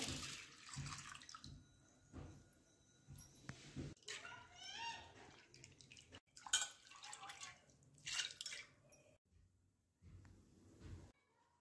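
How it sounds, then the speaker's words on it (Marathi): Split chickpeas (chana dal) being washed in water, with intermittent splashing, swishing and dripping up close, quiet and broken by pauses. "मी त्याच्यासाठी 1 वाटी हरभऱ्याची डाळ घेतलेली आहे। ते आपण स्वच्छ धुवून घेऊया।"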